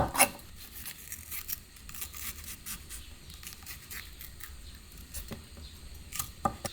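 Chives for wraps are snipped into short lengths, giving a series of light, crisp cutting snips at an uneven pace over a quiet kitchen background, with a sharper cut near the start and another near the end.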